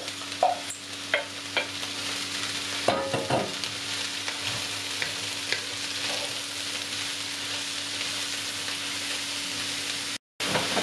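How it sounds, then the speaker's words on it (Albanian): Leeks sizzle steadily in hot oil in a frying pan, with occasional soft scrapes and clicks as they are stirred. The frying holds at an even, moderate level with no voices. "do shtojmë në tigan preshin dhe do fillojmë do ta skuqim"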